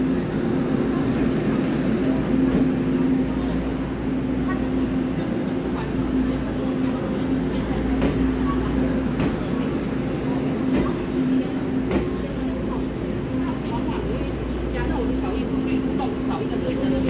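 A Taiwan Railway PP Tze-Chiang express, with an E1000 electric locomotive at each end of twelve coaches, departs Shulin on the North-Link line toward Hualien, producing a sustained low rumble with a steady humming tone while voices talk over it.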